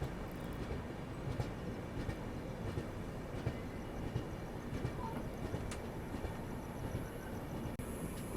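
The Dibrugarh Rajdhani Express rolls along with a low, steady rumble and faint rhythmic wheel clicks, heard quietly from inside the train with no voices.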